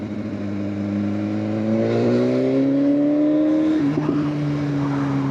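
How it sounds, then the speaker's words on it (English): A 2016 BMW S1000RR Gen 3 sportbike revs hard and close, its engine note climbing steadily then dropping back as the throttle closes, loud and alone. "this is a very noisy bike, bro"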